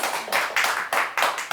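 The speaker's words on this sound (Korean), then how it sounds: "다시 한번 박수 부탁드릴게요." Audience applause at a humanities lecture, a short burst of clapping with several distinct pulses rising and fading within a second and a half.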